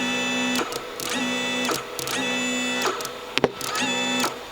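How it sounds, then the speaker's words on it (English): A Gamechanger Motor Synth MK2 sounds sustained buzzy motor tones that repeatedly glide upward in pitch, about four rising swells in a steady rhythm, with a couple of brief clicks near the end and no talking. "the actual motors speeding up, which is really interesting"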